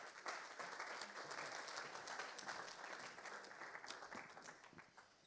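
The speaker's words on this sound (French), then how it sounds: "Vous pouvez applaudir Michelle." Audience applause at a conference talk on stage, a steady, dense clapping that fills the whole stretch at moderate level and tapers slightly toward the end.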